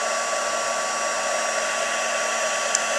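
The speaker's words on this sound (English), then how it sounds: "Okay, so then I'm going to heat set that." Steady, loud whirring blow of a heat tool setting Pool Party embossing powder on a card, a constant broadband hiss with a faint electrical hum, running unbroken throughout with no voices.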